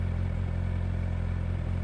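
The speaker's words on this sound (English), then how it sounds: "it sounds like I can hear the engine noise too" Motorcycle engine droning steadily while riding, a loud continuous low hum with a faint regular pulse and no speech over it.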